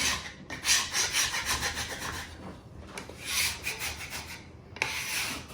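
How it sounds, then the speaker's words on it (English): A metal scraper rasps hard across a cutting board in repeated firm strokes, close and loud, with short pauses between passes and no talking. "Put some good hard pressure on it. Scrape that cutting board."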